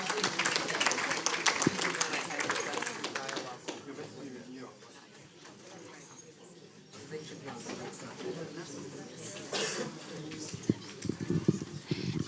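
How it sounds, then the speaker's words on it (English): Audience at a French-American forum on antisemitism applauds the former Minister for Gender Equality, Isabelle Rome, with clapping swelling and fading around stretches of a voice talking over it. "Please do give her a round of applause."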